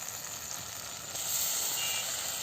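Ginger garlic paste hitting hot oil for chicken sukka, a dense bright sizzle that swells louder midway and holds close and steady, with no voices.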